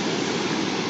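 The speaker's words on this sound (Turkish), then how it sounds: "Şu an bir şelale burada." A waterfall at Çeme Reşan near Mazıdağı, Mardin, roars as a steady, loud, dense rush of falling water, continuous and unbroken, with no voices.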